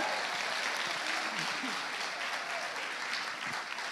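A conference audience at a family church event breaks into sustained applause, steady clapping filling the room for the whole stretch with no pauses.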